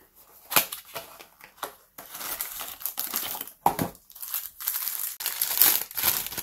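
Lightweight plastic packaging from a Maybelline advent calendar crinkles and rustles in irregular close bursts while being unwrapped, with sharper crackles between softer handling sounds and no talk.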